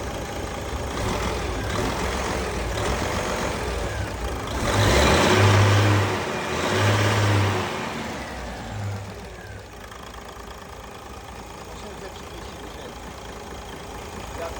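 Following a valve adjustment, a car engine runs steadily at a close, even idle, rising briefly into a few throttle blips before settling back to a smooth hum.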